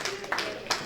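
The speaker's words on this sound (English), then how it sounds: "shall we please give a big round of applause to this wonderful group home that is delivering" A brief burst of hand clapping from an audience for a group home, a few quick claps mixed with a speaking voice over it.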